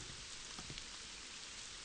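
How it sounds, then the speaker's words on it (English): Rain falls steadily in a survival horror video game, a soft continuous hiss with faint patter that runs unbroken and quiet, with no voices. "It started to rain."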